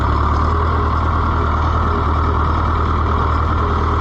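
An Oliver 1365 tractor engine idles steadily and loudly close by, a constant low diesel rumble with no changes in pace and no voices.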